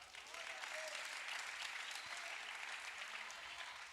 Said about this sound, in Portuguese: Dê um aplauso.